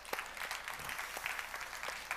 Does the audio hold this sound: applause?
yes